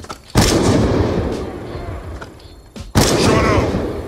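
A frag grenade blast and gunfire in a first-person shooter game: two loud, close booming impacts with rolling decay, separated by a short stretch of rumbling noise and faint scattered shots.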